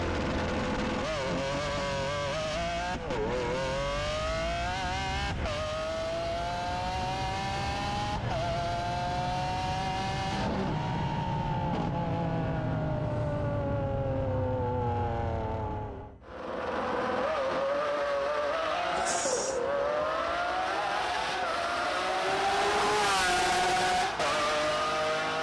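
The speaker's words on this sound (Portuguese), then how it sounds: "Essa daqui é uma Lamborghini SVJ, né, mano?" Lamborghini SVJ engine revs loudly and close, long rising and falling tones with repeated throttle swells, a brief drop near the middle, then higher-pitched revving to the end.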